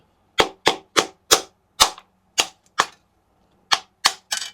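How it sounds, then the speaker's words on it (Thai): Sharp, loud wooden whacks from a log pounding Norwegian bread crab, about a dozen hard strikes in irregular rhythm with brief silences between, close and alone. "เขาต้องเอาขอนทุบ"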